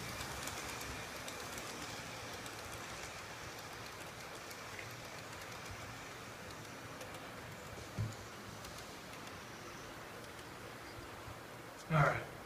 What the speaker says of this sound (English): we'll just go ahead and run this other train here and then let it go